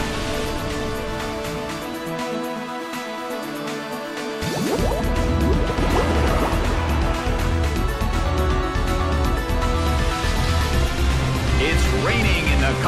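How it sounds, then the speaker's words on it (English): Steady rain pours down in Pokémon Battle Revolution's Colosseum, softer at first and then heavier, its dense patter continuing over a low background rumble. "It's pouring rain in the Colosseum."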